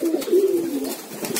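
Domestic pigeons coo close by, a soft low rolling call that swells and fades, with faint fluttering and outdoor noise around it and no talk.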